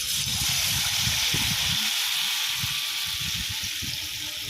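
Battered ash gourd slices fry in hot oil over a medium flame, a steady broad hiss and bubbling sizzle close up, with low thumps and clatter of handling beneath, easing slightly toward the end.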